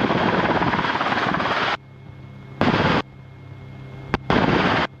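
Close, loud drone of a Rotorway helicopter's engine and rotor during slow-flight training, cutting in and out in bursts separated by quieter gaps, with a sharp pop near the end.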